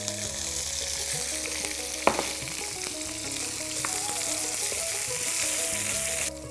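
Chopped green chillies fry steadily in hot oil after cumin seeds in a pan, a close, continuous sizzle with small crackles and one sharp pop, no voices.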